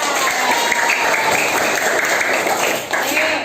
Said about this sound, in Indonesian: Kita kasih tepuk tangan yang mau membaca.